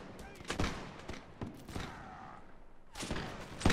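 Musket volleys crack out in a Napoleonic battle in the game Mount&Blade L'aigle, several sharp reports in irregular bursts at middling distance, over a low rumble of background noise.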